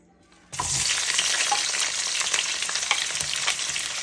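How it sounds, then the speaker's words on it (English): Onions hit hot oil with a sudden loud hiss, then a steady, crackling sizzle continues close by without pause. "this is how you want your onions to sound when you put it in the oil"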